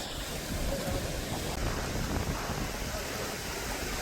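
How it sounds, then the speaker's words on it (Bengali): Strong wind buffets a river trawler crossing the Padma at sunrise, a steady broadband roar with gusty rumble across the whole stretch, no voices. "বাতাস"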